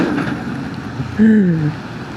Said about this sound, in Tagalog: So umuulan pa rin